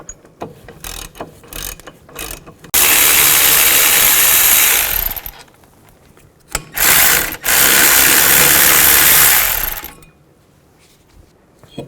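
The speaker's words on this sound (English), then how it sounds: "Now take a 17mm socket, take these two bolts out so we can take the bracket off." Ratchet with a 17mm socket removing brake bracket bolts on a 2003-08 Toyota Matrix, close and loud, with rapid clicking bursts and two long sustained buzzing runs as the bolts spin out.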